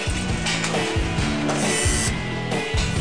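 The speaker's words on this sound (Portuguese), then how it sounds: "Um funcionário coloca as 4 peças da armação em uma máquina de solda" A spot welding machine in a factory joins the four pieces of a steel locker frame. It gives a loud, continuous mechanical buzz and hum with rhythmic repeating pulses.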